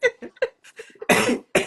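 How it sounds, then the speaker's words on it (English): Several harsh coughs in quick succession from a woman on a casual live stream, loud and close, with short gaps of breath between bursts. "you gotta be coughing on here"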